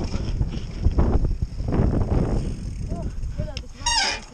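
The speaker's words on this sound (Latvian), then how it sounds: "Wow, kāds vējš!" Strong gusty wind at an outdoor pump track roars across the microphone in heavy low rumbles, with shouted voices and whoops breaking through near the end.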